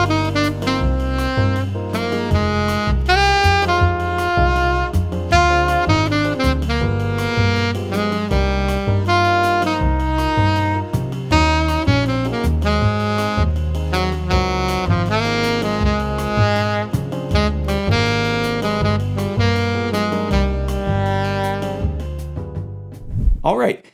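A jazz ensemble plays a standard, with steady bass, comping chords and melodic lines running continuously at full level and then cutting off at the end.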